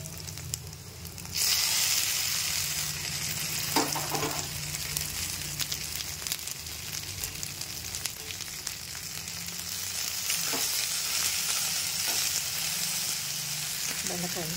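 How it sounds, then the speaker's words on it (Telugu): Okra drops into a pan of hot oil with mustard seeds, cumin, onion and curry leaves, bursting into a loud, sustained sizzle after a quieter start, with occasional spatula knocks. "ఇప్పుడు ఇందులో బెండకాయ వేసుకుందాం."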